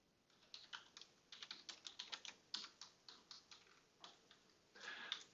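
Rapid typing on a computer keyboard while entering an email address, name and street address into an online redemption form: irregular bursts of close, crisp key clicks with brief pauses, no voices.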